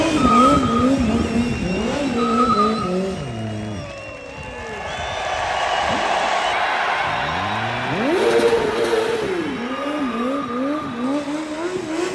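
Big cars skid and drift around the Red Bull Motormania track, engines revving in rising and falling sweeps with tire squeal, loud and near, with a crowd murmuring in the background.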